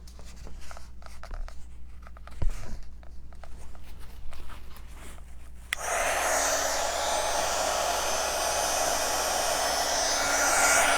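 Heat gun blowing to warm glue on a pumpkin, a loud steady rushing whoosh that switches on abruptly midway and continues, preceded by quieter scratching and handling sounds.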